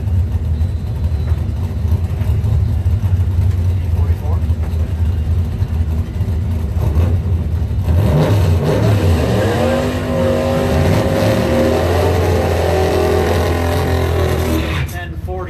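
Ford Mustang drag cars in a Blue Oval Battle race accelerate hard down the strip. Their engines make a loud, sustained roar that rises, then sweeps upward in pitch as they pull away. An announcer talks over the engine noise throughout.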